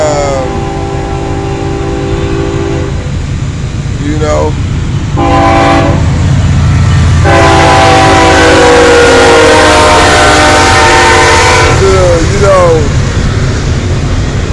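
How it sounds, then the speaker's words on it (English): A train rolls by loudly with a heavy rumble while its horn sounds in several blasts, the longest in the middle; a voice speaks over it. "I've been watching a lot of trains come by."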